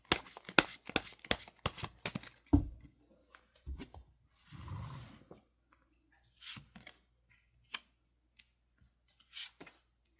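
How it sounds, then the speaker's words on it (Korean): Tarot cards are shuffled and picked in a quiet room: a rapid flurry of crisp riffling slaps at first, then sparse, scattered card flicks and soft sliding sounds with long pauses between them. "먼저 카드 선택부터 하도록 하겠습니다."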